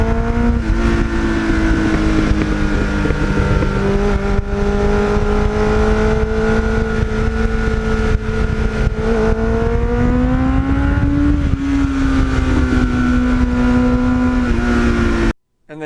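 A 1989 Kawasaki GPX750R Ninja cruises along back roads, its engine a steady, close drone. The pitch rises and falls gently with throttle, and wind noise runs underneath throughout, with no talk.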